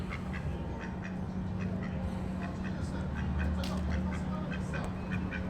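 Ducks quacking near a lakeside in Riva del Garda, one drake chasing his mate, with repeated nasal quacks over steady outdoor background noise; a voice mimics the quacking.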